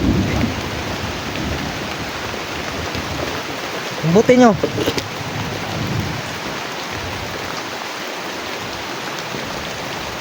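Steady heavy rain hisses throughout, close and dense, with a brief voice speaking partway through.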